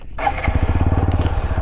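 A motorcycle engine idling and pulling away on a rough mountain trail near rocks, a steady loud chugging putter close to the microphone after a brief start.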